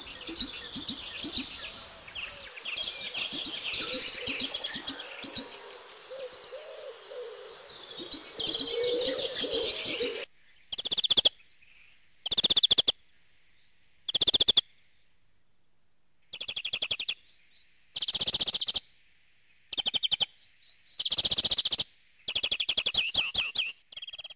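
Birds call in a garden in winter. A dense, steady chorus of chirps and coos is followed by separate bursts of loud, close calls with silent gaps between them.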